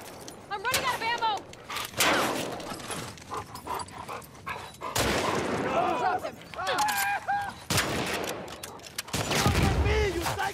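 Gunfire in The Last of Us Part II bursts out in scattered volleys amid dog barking and panting, with someone talking over the shooting.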